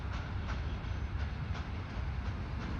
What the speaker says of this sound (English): I got a train up here in Hamilton.